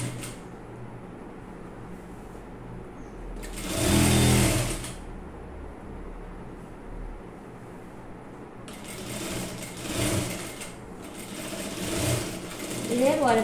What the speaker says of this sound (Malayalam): ഇതേപോലെ തന്നെ ബാക്ക് സൈഡും സ്റ്റിച്ച് ചെയ്ത് എടുക്കുക